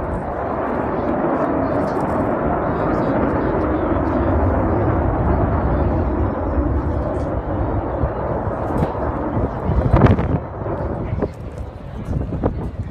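An Avro Vulcan bomber jet roars in a broad, sustained rumble that swells and shifts as it passes at an air show, with some wind buffeting.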